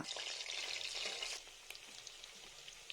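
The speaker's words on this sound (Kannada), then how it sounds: "ಕುಕ್ಕರ್ಗೆ ಹೆಚ್ಚಿಟ್ಟುಕೊಂಡ ಈರುಳ್ಳಿಯನ್ನು ಸೇರಿಸಿಕೊಂಡು ಈರುಳ್ಳಿ ಕಂದು ಬಣ್ಣ ಬರುವವರೆಗೂ ಹುರಿದುಕೊಳ್ಳೋಣ" Chopped onions frying in hot oil in a pressure cooker give a bright, steady sizzle, louder at first and then settling lower, with a few soft clicks of stirring, close and with no talk.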